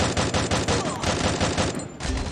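Rapid automatic gunfire in the shooter game Free Fire, a steady stream of close, loud shots in quick rhythm that breaks briefly before resuming, with no talking.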